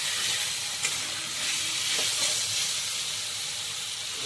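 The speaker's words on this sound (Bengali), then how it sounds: "কচুটা ভাজা ভাজা করবো।" Taro pieces fry in a pan with a steady, loud, even sizzle that hisses on without pause and has no talking over it.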